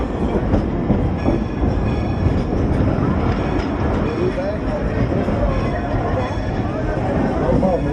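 A 1942 Dollywood train, number 192, rumbles steadily along its tracks at a theme park, a continuous close mechanical roar with faint clacking throughout and a crowd of riders chattering underneath.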